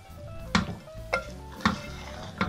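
Aloo methi sabzi, a potato and fenugreek dish with chopped coriander and slit green chillies, is stirred in a pan. Four evenly spaced scrapes of a spoon against the pan sound over a faint sizzle.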